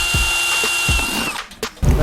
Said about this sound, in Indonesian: Pertama-tama kita akan melubangi tutup toples dengan bor.